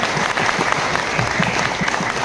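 Loud, continuous clapping from an audience at a film song launch event, dense and steady across the short stretch with no pause.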